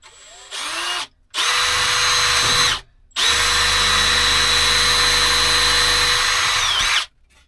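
A power drill bores pilot holes through thin roof cladding on a van build, two long loud whining bursts after a short start, each ending abruptly, with a steady high motor tone close up.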